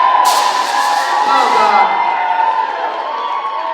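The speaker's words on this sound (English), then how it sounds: "Come on, everyone, keep the cheering going." Crowd cheering and whooping fills a Kent Union student elections results night, loud and continuous throughout, with a voice speaking over the noise.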